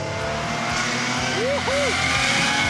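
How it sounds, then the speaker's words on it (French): A custom Porsche 911 flat-six engine rumbles steadily nearby, with a quick rev that swoops up and back down midway, while voices are faintly present. "t'as vraiment réussi à sublimer le son du flat 6"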